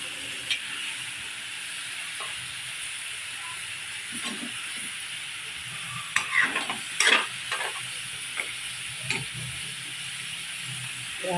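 Crab curry with squash, beans and potato simmers in coconut milk under a continuous hiss, with scattered scrapes and taps of a spoon stirring the pan.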